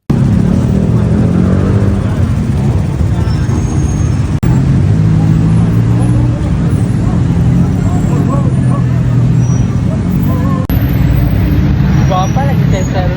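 Dense New Year's Eve road traffic in Bangkok near Icon Siam: a constant rumble of cars, buses and motorcycles fills the air close by, with voices talking over the din throughout.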